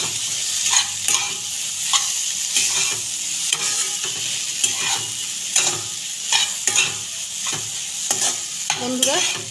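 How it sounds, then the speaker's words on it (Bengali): Egg bhujia with tomato sauce being stirred in a frying pan: a steady low sizzle under repeated scraping strokes of a spatula, irregular but continuous, close and moderately loud. "এটা ভালো করে মিশিয়ে নেব।"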